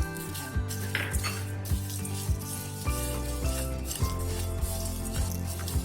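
Whole spices, black pepper, black and green cardamom and cloves, dry roasting in a pan, a steady soft rattle and scrape with regular clinks as a spoon strikes the pan, close and without talk.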